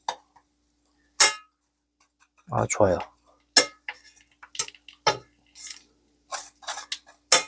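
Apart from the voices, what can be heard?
bread toasting crisply in a pan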